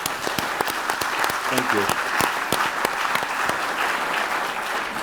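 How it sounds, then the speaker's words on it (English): A summit audience of business leaders gives a round of applause, dense and sustained clapping throughout, with someone briefly speaking a word of thanks over it near the middle. "but give them a round of applause."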